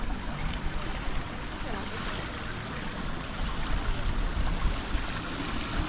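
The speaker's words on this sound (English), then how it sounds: "Yeah, even a little waterfall in this pool." A small waterfall spills into a large hotel swimming pool, making a constant broad rushing splash that fills the whole stretch without letting up.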